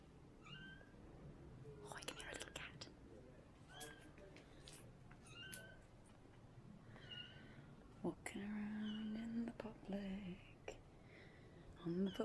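A cat meows several times outdoors on a city street footpath, the cries fairly faint and intermittent over traffic and street noise, with people's voices and whispering around it.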